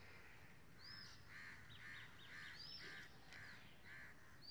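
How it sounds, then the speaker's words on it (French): Crows cawing outdoors, a couple of rasping calls over a soft, steady wash of ambient noise, fairly distant and quiet with no voices. "Nos amis les oiseaux et les corbeaux sont de la séance aujourd'hui."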